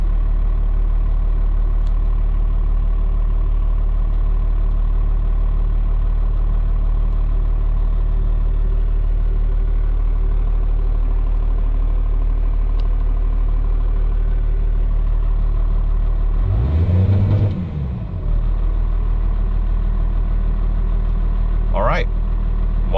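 A 1995 Dodge Ram 2500 4x4 diesel engine idles with a loud, steady low drone throughout, broken by a brief disturbance near the end.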